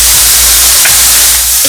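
Onion, green chilli and ginger, salted, sauté in a pan, making a loud, steady hissing sizzle that holds evenly for under two seconds without any voices.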